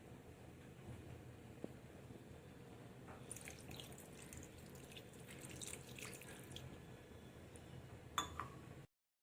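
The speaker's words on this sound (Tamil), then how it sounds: "இவ்வளோ இந்த கிளாஸ் அளவு தண்ணி ஊற்றினா போதும்" Water is poured steadily from a glass into a cooking pot, a continuous splashing stream with a brief clink near the end, over low background rumble.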